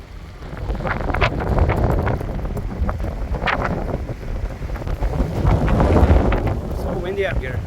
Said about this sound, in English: Yeah, the wind is just super strong.